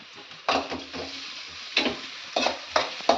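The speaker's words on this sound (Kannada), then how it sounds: "ಅಮ್ಮ ಒಗ್ಗರಣೆ ಹಾಕ್ತಾ ಇದ್ದಾರೆ" A tempering of spices hits hot oil in a home kitchen, giving a close, loud crackling sizzle with several sharp bursts of spattering and stirring over a few seconds, with no speech.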